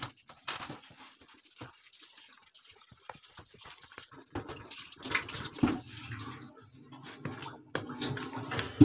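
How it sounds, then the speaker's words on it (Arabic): Tap water runs and splashes over a whole duck as flour is rinsed off it in a home kitchen, faint and uneven with handling noises and no speech. "بشطفها دلوقتي عشان اتخلص من كل الدقيق اللي عليها"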